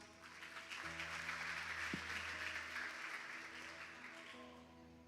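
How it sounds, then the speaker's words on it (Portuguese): A church congregation applauds loudly together after a sermon, a dense, steady wash of clapping that holds for several seconds with sustained organ or keyboard tones underneath. "Aplauda o Senhor bem alto."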